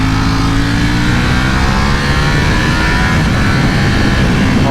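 A 2020 Ducati Panigale V4S sport motorcycle accelerates hard on the road, its loud engine roaring steadily and close throughout with no voices.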